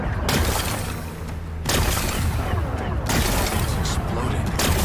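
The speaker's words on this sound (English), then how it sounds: "It's exploding." Rocks blasting apart in the video game Horizon Forbidden West, with loud, rumbling explosive bursts recurring every second or so amid dense debris noise.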